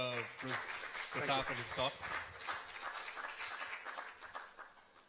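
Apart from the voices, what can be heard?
audience applause after a talk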